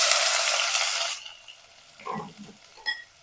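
Onions, cashews and whole spices such as cinnamon and cardamom sauté in hot oil inside a pressure cooker, a loud broadband sizzle that fades after about a second, followed by a few faint stirring clinks and scrapes.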